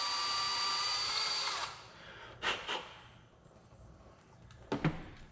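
A hand drill bores slowly into the narrow nock end of a wild rose arrow shaft, a steady whir that stops abruptly, followed by brief scraping bursts and quiet pauses.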